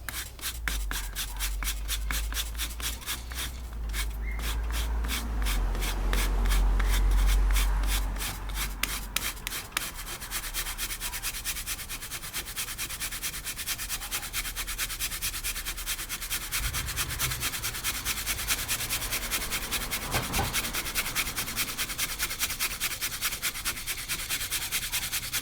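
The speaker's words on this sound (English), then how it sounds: "the cheese grater, it's actually doing its job." Fatwood being shaved into fluff on a cheese grater, a steady rasping, scraping rub that continues close up and fairly loud for the whole stretch with no talking.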